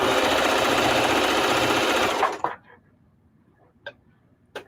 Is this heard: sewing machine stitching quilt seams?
yes